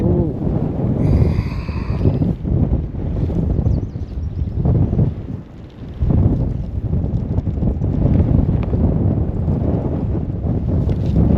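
Strong wind buffets a microphone aboard a pontoon boat, a loud, rough roar of gusts that swells and briefly drops away before returning, with no talking.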